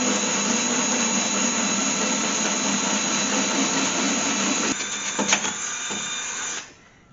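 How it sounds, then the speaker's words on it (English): A larger power drill runs steadily with a loud, sustained whining drone close by, wavering a little before winding down and cutting off near the end. "Here we go with the bigger drill."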